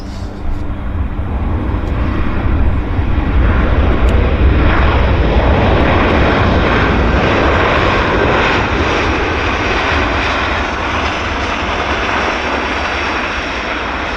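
Jet engines of a United Airlines A320 at Vancouver airport roar loud and close, a dense steady rumble that swells slightly and then holds for the whole stretch, with no talk.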